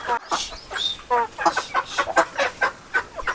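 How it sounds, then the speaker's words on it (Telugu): Chickens on a farm cluck in quick, repeated bursts as they are let out to feed, close by and fairly lively, with a few sharper calls mixed in. "కోళ్ళు అన్నిటిని బయటికి ఆహారం కోసం తీసుకెళ్తున్నాడు"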